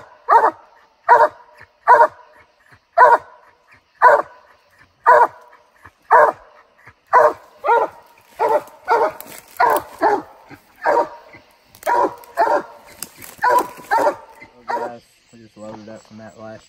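Bluetick and Walker coonhounds bay at a tree on a public-land coon hunt, with repeated loud bawling barks in a steady rhythm throughout, some overlapping, close to mid-distance.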